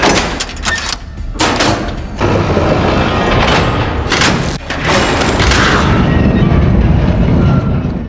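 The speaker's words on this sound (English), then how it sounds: "Before dying, Alexander detonated a bomb, putting an end to his legendary and long life" A bomb detonates in a dramatic fantasy film scene, heavy booming blasts and thuds rolling loudly over a dense, roaring rumble with short gaps between the impacts.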